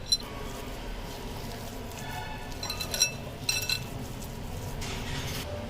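Boiled, peeled potatoes being mashed soft in a bowl for ghee paratha dough, quiet clinks and scrapes of utensil against the dish with soft squishing, irregular and close, a few sharper taps standing out, no voice.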